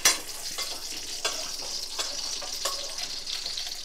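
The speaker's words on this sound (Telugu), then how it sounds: "స్టవ్ ఆఫ్ చేసి ఇదిగోండి నెయ్యి వేసేసాను." Ghee sizzling in a hot pan just after the stove is switched off for lemon rice, a close crackling hiss with a few sharp spits near the start and along the way, no talking.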